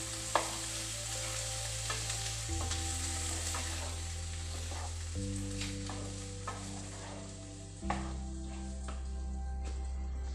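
Bitter gourd frying in a pan, with a steady sizzle and occasional stirring clicks. Sustained tonal hums shift pitch every few seconds beneath the frying.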